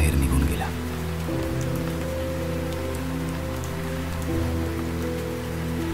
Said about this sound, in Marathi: त्या रात्री इतकी पाऊस झाला की ती दरी पाण्याने भरून गेली